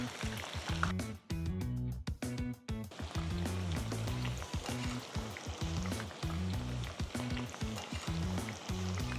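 Bombil fish sizzling in rice bran oil over a medium-high flame for a Maharashtrian bombil fry, with a steady crackling fry texture and rhythmic lower thumps and clatter throughout, close and fairly loud.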